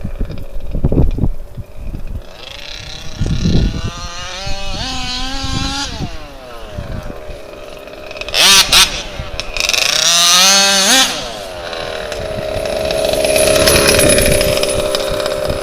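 An HPI Baja RC car with a gas engine revs hard in bursts, its buzzing two-stroke whine climbing and falling in pitch several times, loud and close, with wind noise over the microphone.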